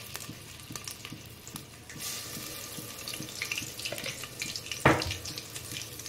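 Garlic ginger paste frying in hot oil in a pan with cinnamon and bay leaves, for a chicken korma, gives a steady close sizzle with a louder hiss near the end.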